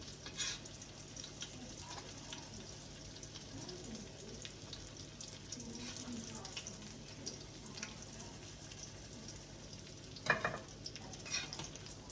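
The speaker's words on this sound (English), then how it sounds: "Once that grease is done sizzling, and it's not talking anymore" Grease sizzles softly and steadily in a pan while frying croquettes, a faint crackling hiss with a couple of brief louder clatters near the end.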